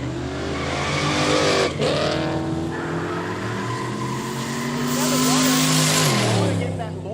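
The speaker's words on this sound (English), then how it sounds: "To get that launch, you could just hear a little bit of protest from the tyres" A drag car launches hard at a street-legal drag event in the Kooralbyn Valley, its tyres giving a brief squealing protest over a loud, sustained engine roar that rises and falls, with a voice talking over it.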